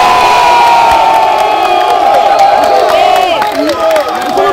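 A large crowd cheers and acclaims at a municipal election political rally in Côte d'Ivoire. Loud, close whoops and shouting swell across the whole stretch, with scattered clapping mixed in and no speech over it.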